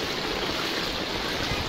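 Floodwater after heavy rain runs over a road in Dhangadhi, Nepal, with houses submerged nearby, giving a steady, loud, broadband rush of flowing water that continues without a break.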